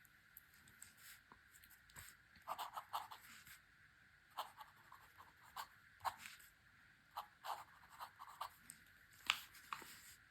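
A Pelikan fountain pen scratches faintly across paper in short, irregular strokes, quiet and close with small pauses between bursts of writing.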